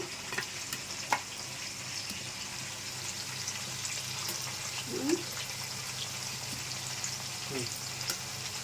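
Ginger garlic paste frying in hot oil for chicken biryani gives a steady sizzle and crackle, with a few soft scraping stirs.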